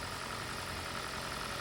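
A Toyota Prius with 312,667 miles idles smoothly with no misfire, a steady close engine hum and faint vibration holding an even level throughout, with no talking.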